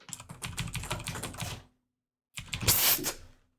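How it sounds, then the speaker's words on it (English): Fast, frantic keyboard typing in two bursts separated by a brief silence, the second louder and more clattering. "So if you could hear that beneath my spamming of my keyboard"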